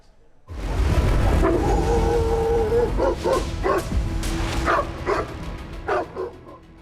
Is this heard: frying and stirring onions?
no